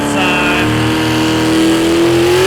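A four-wheel-drive truck at a pulling competition roars with a loud, steady engine rev that climbs gradually in pitch over a couple of seconds, close and continuous.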